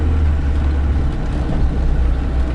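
A Lada Niva car drives up with a steady, close, low engine rumble that holds level throughout, with no voices.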